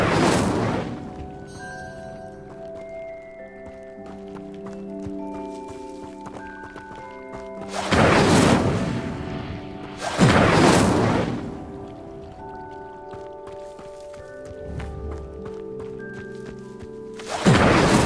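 An Incendio fire spell is cast in Hogwarts Legacy: three loud, broadband whooshing bursts, the last cut short at the end, flare up over steady orchestral game music.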